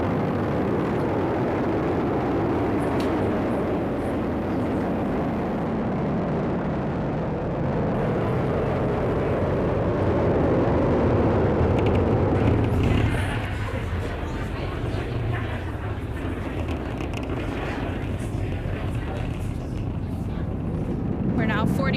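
A SpaceX Falcon 9 rocket carrying Crew-10 roars with a sustained, broad rumble that fades and thins as it climbs away, buffeted by wind noise, with a voice talking over it.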